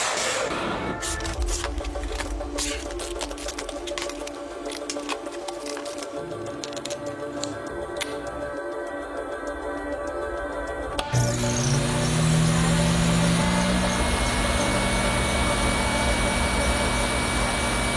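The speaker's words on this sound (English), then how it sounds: "So I'm gonna put together a see-through jet engine, start it up, and film it in slow motion." See-through jet engine being started: a whirring, clicking spool-up with crackling bursts, then a sudden jump into a loud, steady roar and rising whine for the last seconds, close and without talk.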